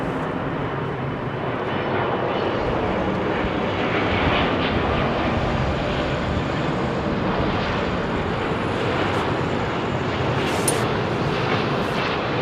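A jet airliner departing runway 27R at London Heathrow roars close and loud, a dense sustained rumble of engine thrust lasting the whole clip without easing.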